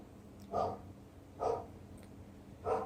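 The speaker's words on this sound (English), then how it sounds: "And so, here's the dogs." A dog barks three times at even intervals, faint and somewhat distant, with a low background hum.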